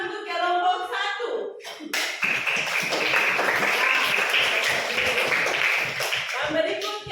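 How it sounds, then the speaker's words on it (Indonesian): Applause for a presenting student group in a classroom, a sustained burst of many hands clapping together that starts after brief speech and carries on steadily for several seconds, with voices at the start and end. "Berarti tepuk tangan untuk kelompok 1."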